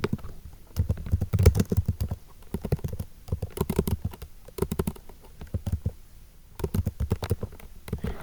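Typing on a computer keyboard, quick clattering bursts of key presses with brief pauses between runs, close and fairly quiet.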